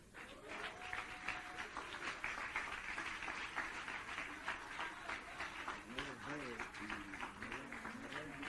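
Church congregation applauding during an evangelical worship service, a steady wash of clapping filling the room with voices and shouts mixed in throughout.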